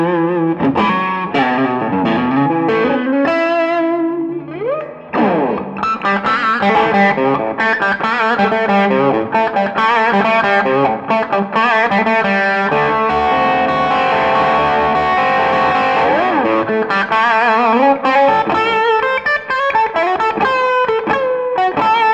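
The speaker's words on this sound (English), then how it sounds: "As usual, the drive sounds you're hearing are the 633 X2 overdrive." A Gordon Smith GSG-2 electric guitar with P90 pickups plays through a 633 X2 overdrive, producing loud, driven chords and melodic lines with bends and sustained notes that carry on continuously for over twenty seconds.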